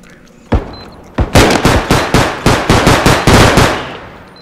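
Shotgun fire in the video game Bodycam: a single loud blast, then a rapid string of about ten sharp, close shots with short decaying tails, heard alone.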